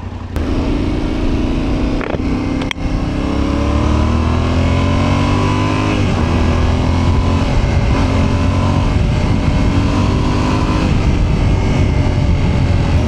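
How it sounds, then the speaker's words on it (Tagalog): A Yamaha Ténéré 700 motorcycle engine pulls on a test ride, loud and close, its pitch climbing and settling as the rider works through the gears, with steady wind and road rumble underneath. "Pero impressive na ako sa makina nito ah. Sobrang smooth ng engine."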